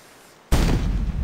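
Cannon firing in the video game Lost Lands 4, a single sudden loud boom that bursts in midway after near silence and rolls on with a sustained rumbling decay.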